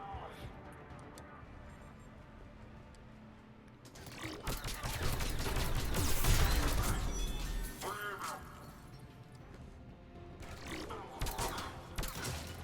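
Gunfire in the video game Mass Effect Legendary Edition lands a headshot: after a quieter stretch of game ambience, a loud, dense burst of shots and impacts erupts mid-clip, then tapers into lingering combat noise.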